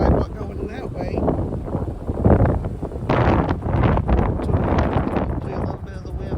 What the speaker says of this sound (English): Hopefully a little bit of the wind.